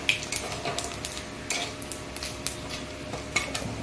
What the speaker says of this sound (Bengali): সমস্ত হালকা করে আমি ভেজে নিয়ে